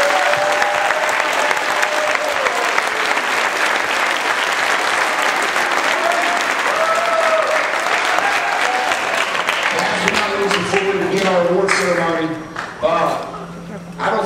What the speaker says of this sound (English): give a round of applause to our coaches this week